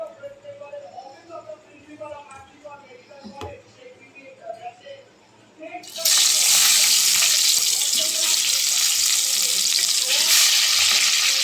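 Brinjal pieces fry in hot oil for fish cooked with mustard, and a loud steady sizzle suddenly bursts in and holds at full strength after quieter kitchen sounds with some talk beforehand.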